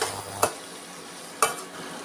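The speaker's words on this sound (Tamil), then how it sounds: "உருளைக்கிழங்கு ஒரு 2 நிமிஷம் வதக்கினா போதும்" Boiled potatoes sautéed in a pan with salt give a soft, quiet sizzle, broken by two sharp spatula knocks about a second apart.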